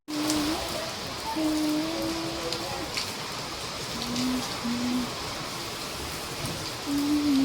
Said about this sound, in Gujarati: અત્યારે તો ધોધમાર વરસાદ આવે ને અહીંયા